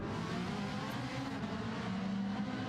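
Race cars in a racing video game brake hard through the corkscrew turn, heard as a dense, steady engine roar with a tonal whine and no pauses.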